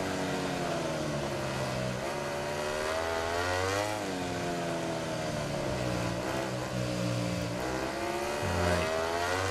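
Ducati GP17 MotoGP racing engine in the MotoGP 17 video game at Catalunya, a loud continuous high-pitched wail that rises and falls through gear changes and revs, with no talk over it.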